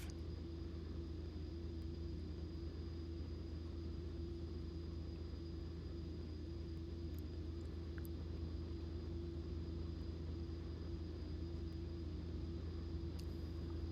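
A Pilatus PC-12 turboprop taxiing in the X-Plane 11 flight simulator gives a steady, unbroken engine drone with a low rumble and a faint high whine, holding even throughout with no talking.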